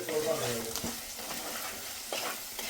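A spoon stirs chili powder and a spice mix in a hot pan, scraping under a steady sizzle that stays close and moderately loud, with brief faint voice traces.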